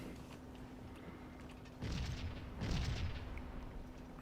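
Cannon fire in the Gettysburg battle game Scourge of War, two muffled, distant booms about a second apart, low and rumbling over a quiet background.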